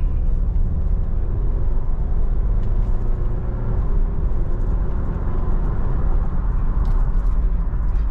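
A Nissan Terra SUV's engine accelerates under steady low road rumble from inside the cabin, a continuous broadband drone with no distinct gear changes.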